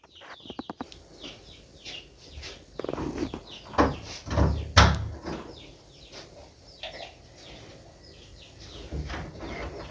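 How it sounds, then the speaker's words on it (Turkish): An iron door is worked open with a quick rattle of metallic clicks, then knocks and a heavy clank, followed by softer shuffling and household movement. "Bakalım kapıyı açıyor."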